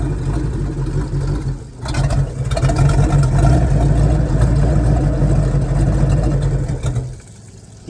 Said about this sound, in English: we finally have the boat running. And it runs pretty good, actually. It sounds healthy.